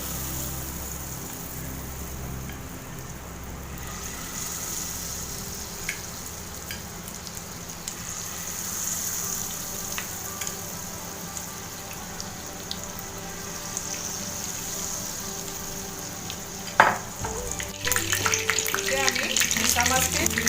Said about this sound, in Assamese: আমি এখন পেনত প্ৰনখিনি ভাজিব পৰাকৈ তেল গৰম কৰি লৈছো আৰু এটা এটাকৈ আমি